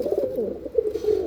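Pigeons from Vijayanagar, Andhra Pradesh, give a soft, throaty cooing in a short run of low warbling notes, close by and alone.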